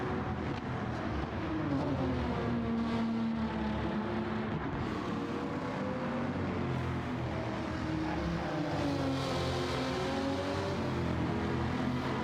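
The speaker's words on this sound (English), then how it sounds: "Man, that Supra does sound good." Toyota Supra race car engine in the Gran Turismo 7 racing game, a steady loud drone whose pitch rises and falls through shifts and revs, with other cars' engines blending in throughout.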